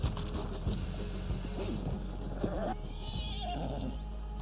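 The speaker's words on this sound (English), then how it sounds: "Oh no! Come on, horse, get up, get up." A horse in the video game Red Dead Online whinnies loudly and close, a long wavering neigh over a dense background of game ambience and hoof clatter.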